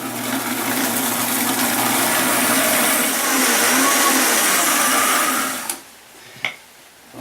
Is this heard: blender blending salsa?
yes